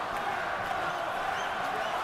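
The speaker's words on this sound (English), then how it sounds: "The crowd trying to urge on Pascal." A boxing arena crowd roars steadily, urging on Jean Pascal against Bernard Hopkins, with a dense, continuous wash of cheering and shouting throughout.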